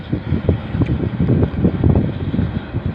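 Strong wind buffets the microphone with continuous low rumbling gusts, loud and unsteady throughout.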